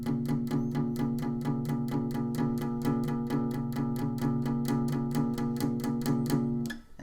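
Acoustic guitar intro, palm-muted down strums at a slower, steady eighth-note pulse on one chord, close and even, ending with a brief ring-out.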